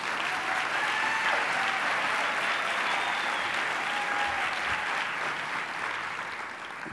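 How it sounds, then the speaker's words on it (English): Audience at an award ceremony for an outstanding jurist award recipient applauds in a sustained, dense burst of clapping from a large crowd, steady throughout and tapering slightly at the end. "Let's give Dina a big round of applause."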